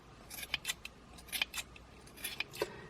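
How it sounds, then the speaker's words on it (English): Scissors trimming a two-colour yarn pompom for a crochet hat, several quick close snips in short irregular bursts, light metallic clicks with no voice over them. "it's better to do small amounts of trimming"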